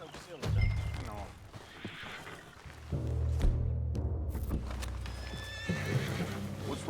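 A horse in Red Dead Redemption 2 whinnies loudly near the start, with hoof clip-clops and other game sounds continuing beneath a low, steady background.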